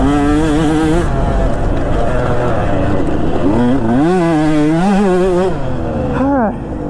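A two-stroke motocross bike being ridden, its engine revving up and down in repeated climbing and falling sweeps, loud and close throughout with no letup.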